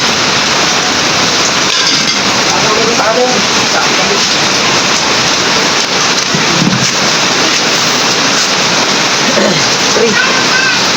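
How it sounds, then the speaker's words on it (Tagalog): Heavy rain pours during a rice harvest in the fields, a loud, dense, continuous hiss of drops hitting surfaces with no letup. "Naabot na ng ulan."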